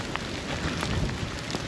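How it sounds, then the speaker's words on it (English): Hail pelting down during a wet mountain bike ride at Black Hill in Ballarat, a dense steady patter of icy pellets with scattered sharper hits, loud and close, with no voices. "It just started hailing, so not rain like normal for here, it's now hail."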